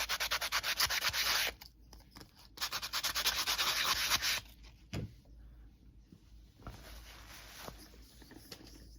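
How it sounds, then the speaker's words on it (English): Sanding a handmade sunflower badge reel piece: close, loud bursts of rapid rhythmic scratching, with pauses between strokes and quieter rubbing toward the end, no talk. "So, I'm going to sand that one as well."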